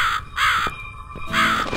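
In the video game The Cat Lady, a crow gives three loud, raspy caws in a quick sequence, each one close and harsh, with short gaps between them.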